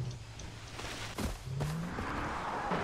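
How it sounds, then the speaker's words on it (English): A car engine in the video game Far Cry 3 hums and revs with a brief tire squeal, moderately loud and steady, with a low drone underneath. "Oh, I hear a car."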